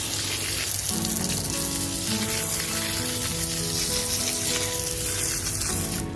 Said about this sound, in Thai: เดี๋ยวผมล้างรากให้เพื่อนๆดูนิดนึงนะครับ